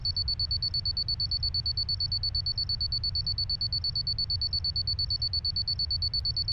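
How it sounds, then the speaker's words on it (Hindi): An alarm clock rings faintly with a steady, rapidly pulsing high beep that repeats evenly without pause, alone in a quiet room. "ये अलार्म कहाँ गया?"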